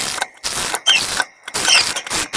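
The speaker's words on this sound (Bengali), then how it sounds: "এবার এই দিক থেকে সুন্দর করে সেলাই করে দেব" Sewing machine stitching around a dress neckline in short rhythmic runs of mechanical whirring broken by brief stops, loud and near with no voices.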